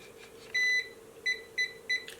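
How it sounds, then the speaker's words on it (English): A device gives a long electronic beep followed by three short, evenly spaced beeps, clear against a faint background hum. "3 beeps, it is ready."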